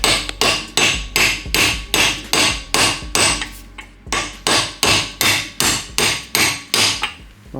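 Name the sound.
hammering with a large mallet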